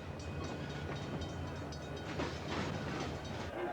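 Freight trains move through a railroad yard crowded with loaded freight cars, giving a steady low rumble with faint clanking throughout and no voices.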